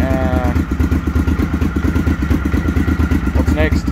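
A Honda XLV750R motorcycle engine fitted with a short header pipe idles up close, with a steady, lumpy chugging pulse throughout.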